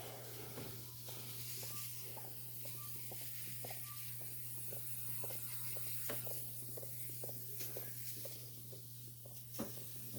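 Soft hissing bursts from a spray bottle of bleach-type cleaner, a series of short quiet spritzes repeating at a steady pace over a low constant hum.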